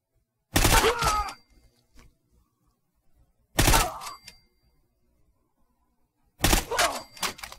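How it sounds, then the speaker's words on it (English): Three separate loud gunshots from a HoneyBadger rifle in Fallout 4, a few seconds apart, each a sharp crack with a brief decaying tail, with quiet pauses in between. "We're gunning y'all down."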